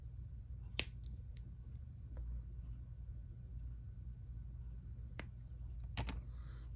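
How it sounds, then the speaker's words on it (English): Jewelry wire for pearl hoop earrings is snipped with small cutters, making faint, crisp clicks: one early, then two close together near the end, over a quiet background hum. "And then I'm gonna snip some off."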